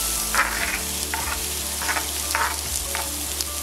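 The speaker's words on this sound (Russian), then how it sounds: "На плиту ставим сковородку, выливаем немного растительного масла и высыпаем измельченный лук." Chopped onion sizzles steadily in vegetable oil in a pan on the stove, a close, constant frying hiss with brief scraping stirs at intervals and no talking.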